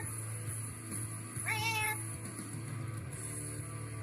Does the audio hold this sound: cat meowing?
yes